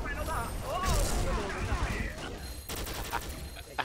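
Gunfire in the shooting video game XSHOT comes in rapid, loud volleys and bursts, with someone talking over the shots.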